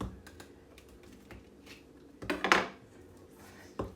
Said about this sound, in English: I just took a little slice here, and I'm just going to take another slice here, and it will give us half rings.